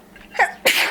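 A single sharp sneeze, a quick intake followed by a loud burst, close by with no talking.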